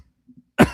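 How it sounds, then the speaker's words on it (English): One short, sharp cough bursts out near the end after near silence, close to the microphone. "And I still have a cough."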